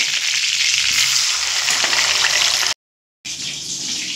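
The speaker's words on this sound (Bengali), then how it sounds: "আর একইভাবে বাকি চিকেনগুলো ভেজে নেব।" Chicken pieces frying in hot oil in a home kitchen, a loud, steady sizzle with a brief break partway through.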